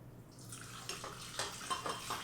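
Warm filtered water is poured from a cup into a stand mixer bowl holding avocado oil and honey for hamburger bun dough, giving a soft steady splash and trickle up close with a few brighter splashes toward the end.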